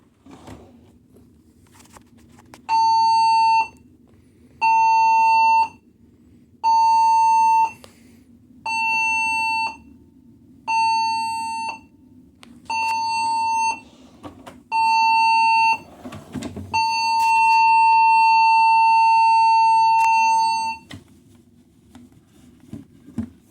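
Carnival Mardi Gras cruise ship emergency signal played over the PA system: seven short, loud electronic blasts at a steady rhythm, followed by one long sustained blast, over a low background hum.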